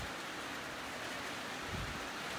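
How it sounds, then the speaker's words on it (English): Rain falls steadily outdoors as a soft, even hiss, faint and continuous with no voices. "If you guys can hear that, and see, it started raining"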